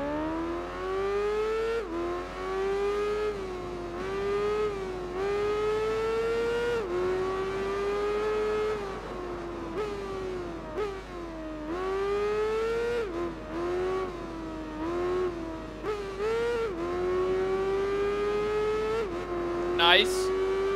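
Motorcycle engine in the Tourist Trophy racing game revving up and down through gear changes, a loud continuous whine rising and falling over twenty seconds, with a voice talking over it at times.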